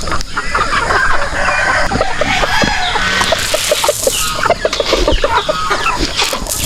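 Farm chickens cluck loudly and close in a busy, overlapping flock, with rapid repeated clucks and sharp calls running steadily throughout.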